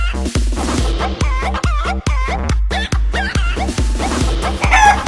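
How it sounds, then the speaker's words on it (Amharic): Chickens and a rooster cluck in a dense, steady chorus, with sharp repeated calls and a crowing cry rising over the flock, close and loud throughout. "አረ ዶሮ ይላል አታይም እንዴ"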